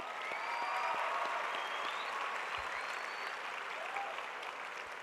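Audience at a 2013 school graduation ceremony claps steadily, a dense wash of applause from a large crowd that holds for the whole stretch, slightly easing toward the end.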